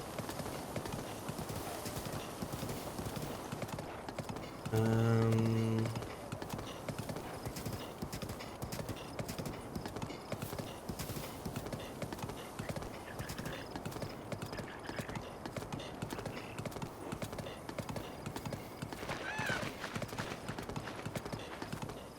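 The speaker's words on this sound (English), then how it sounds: "Shouldn't be too bad, because we are just riding the horseback" Horse hooves clip-clop at a steady gallop while riding horseback in Zelda: Breath of the Wild, a continuous rhythmic drumming that runs throughout, with a brief whinny-like tone partway through.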